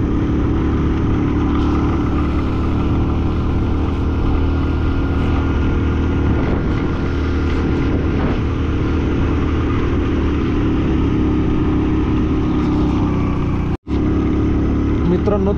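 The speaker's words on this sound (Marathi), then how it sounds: "मित्रांनो तर गाडी फार स्ट्रगल करायला लागली" Car engine labouring in first gear on a steep high-altitude mountain road climbing toward Umling La pass in Ladakh, a loud continuous drone close up with a brief dropout near the end; talk is heard faintly underneath.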